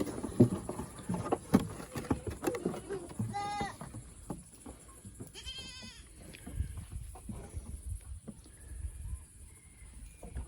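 Baby goats bleating on a farm, several short wavering cries around the middle of the stretch, moderately close, amid rustling, footsteps and intermittent talk.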